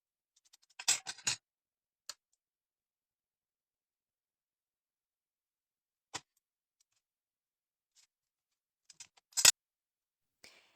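Scissors trimming the edges of paper wooden planks for a card, a few sharp, close snips spaced far apart with long silences between them, no talk.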